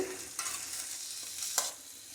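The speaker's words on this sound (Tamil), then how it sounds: "இந்த பூசணி வெங்காயம் எல்லாத்தையும் வந்து நல்லா சேர்த்துடலாம் இதெல்லாம் நல்லா கலந்து விட்டுட்டு" Pumpkin and onion are stirred in hot oil, a soft scraping stir over a steady low sizzle, close and quiet, with a couple of sharper scrapes standing out.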